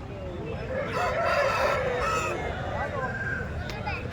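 Roosters crow at a busy poultry market, a long drawn-out cock-a-doodle-doo rising over crowd chatter and background clucking, with people talking nearby throughout.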